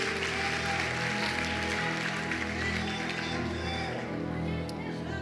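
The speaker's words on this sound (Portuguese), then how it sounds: "Alguém pode aplaudir a Jesus aqui?" A church congregation applauds amid music, with a crowd clapping over steady sustained instrumental tones and a voice faintly present underneath.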